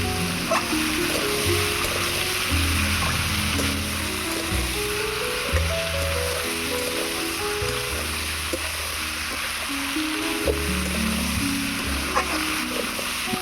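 Pumpkin pieces and other vegetables fry in oil with a constant dense sizzle that runs through the whole stretch, heard beneath a louder melodic music track.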